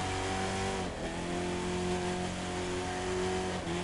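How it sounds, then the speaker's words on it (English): Racing cars roar through San Francisco streets in The Crew 2, a steady, loud engine drone with harmonic whine, a brief dip near one second and another shift toward the end, no talking. "Cars speeding through the Golden Gate City"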